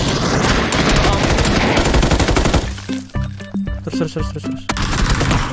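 Rapid automatic gunfire from the battle-royale game PUBG on the Sanhok map, loud dense bursts with sharp repeated shots, the middle stretch broken into distinct rhythmic cracks while a player talks over it.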